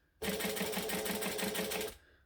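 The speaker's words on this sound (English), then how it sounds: "And then I'm going to stitch and back stitch." A sewing machine runs in one short burst of about a second and a half, a fast, even whirring chatter from the stitching needle, close and fairly loud, starting and stopping abruptly against quiet.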